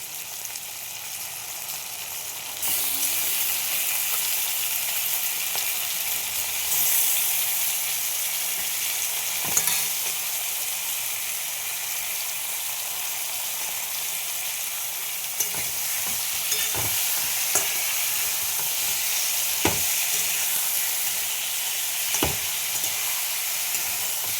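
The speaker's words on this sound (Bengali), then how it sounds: "আমি এই মাংসগুলো ঘি দিয়েই ভাজবো তেল রয়েছে তেল আর ঘি মিক্স করে" Chicken pieces frying in a mix of ghee and oil, a loud, steady, close sizzle that starts abruptly and runs throughout, with occasional sharp clicks from stirring and no speech.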